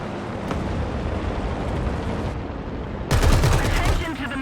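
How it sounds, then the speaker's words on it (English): Machine gun fire in War Thunder, a World War II tank battle game featuring the M6A2E1 heavy tank: a steady dense rattle of battle noise, then a louder, sharper burst of rapid shots in the last second and a half. "What's this new machine gun sound, by the way?"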